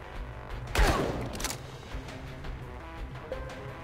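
A short burst of gunfire from a character in the crime strategy game Empire of Sin, one loud crack-and-rattle volley near the start that trails off into low background game ambience.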